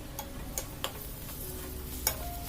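Ginger garlic paste frying in a pan for chicken curry, a soft low sizzle with a few sharp spoon taps and scrapes against the pan, close and fairly quiet.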